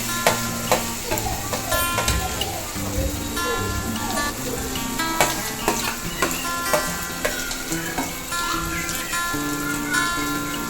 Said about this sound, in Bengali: ভেজে রাখা পেঁয়াজ আর কালো জিরের সাথে এবার আমি পেস্টটি দিয়ে দেবো।